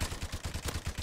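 Rapid automatic gunfire from a light machine gun in the video game Modern Warfare Remastered, a steady rhythmic burst of about a dozen evenly spaced shots, loud and close with no talk over it.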